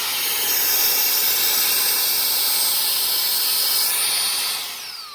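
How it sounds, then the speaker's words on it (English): Loud, steady whirring hiss of a running Mr.ego portable car vacuum cleaner close by, with a high motor whine that shifts in pitch near the end before the noise begins to fade. "Very powerful. So go ahead and attach this to make it into a vacuum"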